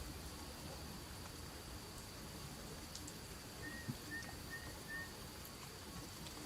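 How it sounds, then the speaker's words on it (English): Soft, steady rain falls as a faint, even hiss in the background, with a few quiet chirps of a distant bird breaking through midway. "The rain that we're hearing is perfect because it's cleansing."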